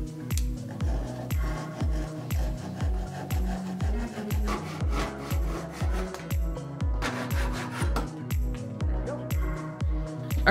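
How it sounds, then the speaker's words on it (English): Wood rubbed back and forth on belt-sanding sandpaper wrapped over a cut-down 2x4 block, a steady rhythmic scraping with regular strokes about twice per second, close and continuous throughout. "This is just a piece of 2x4 that I've cut down to the right size, and this is a piece of belt sanding sandpaper that I throw over the top"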